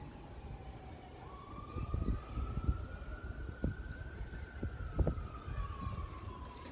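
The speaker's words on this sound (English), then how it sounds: "And here we got more sirens coming in." A fire truck siren wails with a slow rising and falling tone, somewhat distant, over rumbling traffic and scattered thumps.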